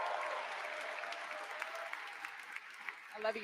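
Audience applause at a Star Wars Celebration Europe live stage event, steady dense clapping from a large crowd that carries on throughout, with a few sharper claps standing out near the end.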